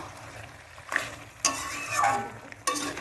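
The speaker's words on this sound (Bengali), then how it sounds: "এই দেখো মাংসটা আমি কষা করছি" Chicken pieces being kosha-fried for curry in a pan: a continuous low sizzle broken by several sharp spatula scrapes and clinks against the metal as the meat is stirred.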